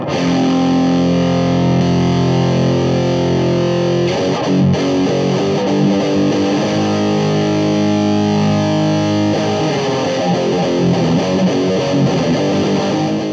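Heavily distorted electric guitar through a JHS AT+ distortion boost pedal plays sustained chords and riffs, loud and saturated, with a change in attack partway through.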